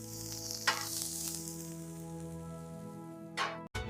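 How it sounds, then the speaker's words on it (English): Asparagus spears sizzle in a hot pan, a steady dense crackling fry with a couple of brief louder hisses and clatters as they are laid in and moved, no voices. "Lay the asparagus in. Hear that sizzle?"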